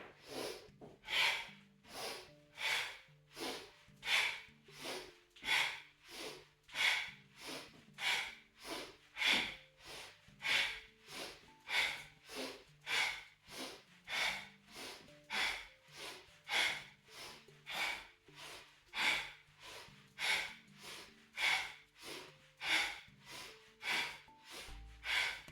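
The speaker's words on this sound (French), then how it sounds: "Tu fais ça 26 fois, 26 respirations à ton rythme" Rapid rhythmic yoga breathing in a steady series of about 26 sharp, forceful breaths, evenly paced and fairly faint, close to the listener with no talking.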